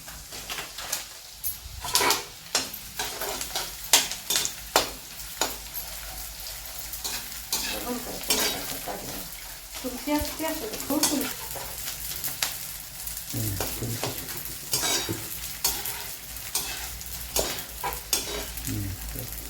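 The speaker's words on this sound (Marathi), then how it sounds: "हा डिंक तळणार आहोत तूप तापत ठेवलेलं आहे" Edible gum (dink) frying in hot ghee for mug laddu makes a steady close crackle and sizzle, with scraping stirs and occasional clinks throughout and no talk.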